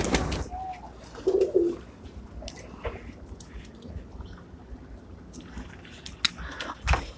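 Soft coos from racing and flying pigeons rise briefly in the foreground at a loft, against a busy background of outdoor noise, with scattered clicks and rustles throughout.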